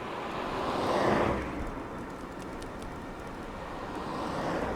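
Steady wind rushing past on an electric bike ride, swelling briefly near the start then settling into a continuous broadband roar close to the microphone, with no talking.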